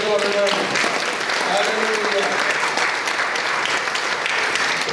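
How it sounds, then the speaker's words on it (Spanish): A church congregation clapping together for the Lord during a Sunday service, dense sustained applause filling the room with voices mixed in. "Dele palmas al Señor, hermano."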